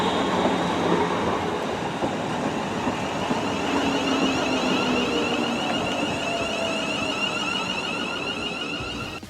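A train arriving at a station rumbles steadily with a metallic hum and faint rail squeal, staying loud and close throughout without any voices.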